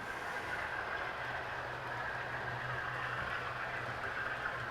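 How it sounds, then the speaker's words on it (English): A model train rolls steadily across a viaduct on a model railway layout, a continuous close rumble with a faint hiss and no pauses. "So she's coming across the viaduct now."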